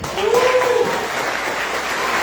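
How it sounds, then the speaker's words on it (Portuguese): Strong applause from a church family-service congregation, a dense steady wash of clapping that stays loud throughout with a sung or called voice rising briefly above it near the start. "E um aplauso bem forte aí"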